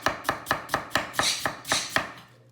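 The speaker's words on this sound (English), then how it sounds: "Cabbage, a fine dice, and then I'm gonna go towards the purple cabbage and do the same" A knife finely dices purple cabbage in nine crisp, evenly spaced chops. The strikes are close and loud, with no other sound between them.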